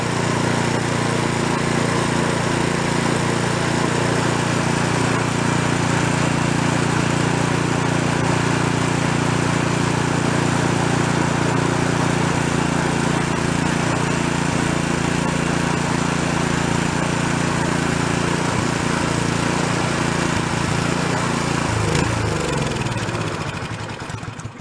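A free snow blower's small engine runs steadily at close range while being partly choked by hand; it drones loudly and unevenly with a lean, slightly hunting idle, then winds down near the end.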